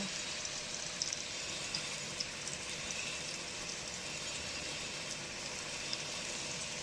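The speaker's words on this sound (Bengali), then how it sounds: "আলু ভাজা হচ্ছে" Steady broadband hiss of potatoes frying in oil, constant and moderately close, with no talking over it.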